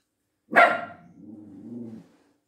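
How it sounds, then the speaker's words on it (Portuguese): A single dog bark bursts out loud and close, trailing into a low drawn-out growl-like tail, then silence, with no voices around it. "Meu cachorro de vez em quando dá um latido do nada"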